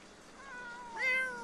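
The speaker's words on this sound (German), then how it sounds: "Also, wir haben hier schon mal ein paar streunerende Katzen." A stray cat in the video game The Sims 4 gives a single drawn-out meow, rising and then falling in pitch, close and fairly clear over quiet background.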